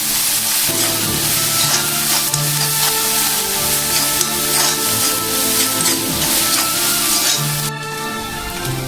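Onions salted and stirred as they fry in a pan for a prawn and long bean stir-fry, a loud continuous close-up sizzle with scraping stir strokes throughout and no talk.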